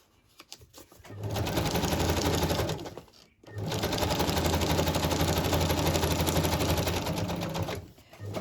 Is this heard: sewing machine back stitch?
yes